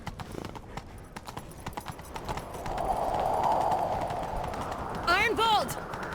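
A horse gallops in The Witcher 3 video game, rhythmic clip-clop hoofbeats close by that build to a loud whooshing passage, with a short whinny-like cry near the end.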